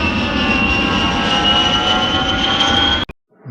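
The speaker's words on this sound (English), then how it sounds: "The plane took off at exactly 10 a.m." A fixed-wing airplane taking off, its engine roaring steadily and loudly with a sustained high whine, then cutting off abruptly near the end.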